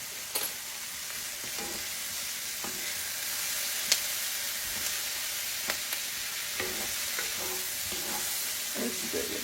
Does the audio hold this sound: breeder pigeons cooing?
no